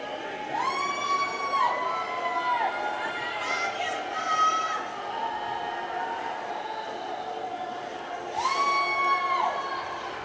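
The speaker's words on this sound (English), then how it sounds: "Coach Cooley getting a cheer out here at center ice." A home crowd at a college women's ice hockey game cheers across a rink, with broad sustained cheering and whoops that swell twice, while a public-address voice and chatter carry over the noise.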